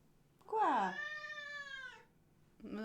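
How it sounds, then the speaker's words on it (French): A kitten lets out one long, drawn meow, rising then holding steady, close and fairly loud, followed by the start of another cry. "je pense que bébé chat veut dire bonjour"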